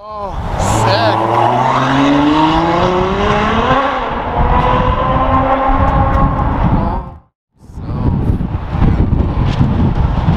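A Ferrari SF90 Stradale supercar passes close by, its engine note rising and falling as it sweeps through, loud and sustained for several seconds before a brief near-silent gap and a renewed roar, with some talking mixed in.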